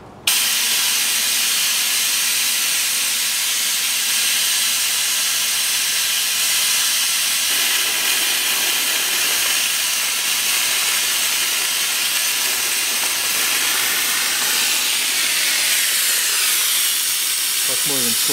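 A vacuum extractor draws engine oil from a 2015 Mercedes-Benz V250 Bluetec 2.2 with a steady, loud, broadband hiss that holds for the whole stretch and shifts slightly in tone toward the end.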